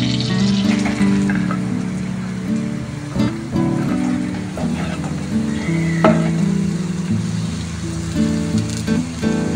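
Vegetables frying in butter with a little oil in a pan for chicken soup, a steady close sizzle with occasional stirring clatter, no talk.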